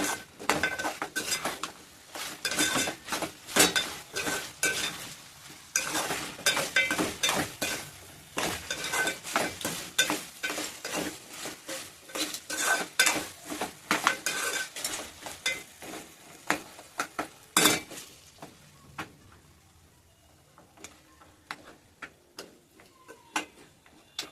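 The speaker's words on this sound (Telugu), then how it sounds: "అల్లం పేస్ట్ ఫ్రై అవుతుంది" Ginger paste frying in a pan for a Telangana-style mutton curry, a steady crackling sizzle with frequent sharp clicks of a spoon stirring against the pan, close and continuous, quieting toward the end.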